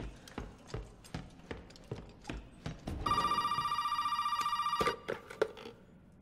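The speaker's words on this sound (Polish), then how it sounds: "Telefon?" In the horror video game Resident Evil 7, a steady run of footsteps gives way to an old-style telephone ringing with a loud, continuous metallic trill for nearly two seconds, then more footsteps follow.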